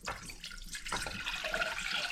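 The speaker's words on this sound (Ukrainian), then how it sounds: "наливаємо сюди пів літра води" Half a litre of water is poured into a container in a home kitchen, a close, continuous splashing trickle that runs for a couple of seconds.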